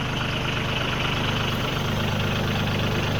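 A Branson 2500 tractor engine runs at a steady, close, low diesel rumble that holds without change for the whole few seconds, with no voices over it.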